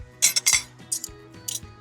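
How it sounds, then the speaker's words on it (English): Metal silverware and cutlery clink and scrape as they are handled on a table, three short bright bursts of clatter spaced about half a second apart, close and clear. "Got plenty of silverware and accoutrements here."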